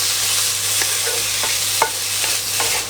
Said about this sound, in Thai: เราจะต้องผัดให้เนื้อมันสลดลงไปนิดนึงก่อนนะครับ